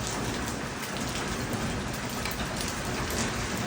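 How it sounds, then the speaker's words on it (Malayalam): Hailstones pelt a yard in a dense, steady, hissing patter with no pauses, close and fairly loud, mixed with the wash of falling rain. "അതാ കല്ല് വീഴുന്നുണ്ട്."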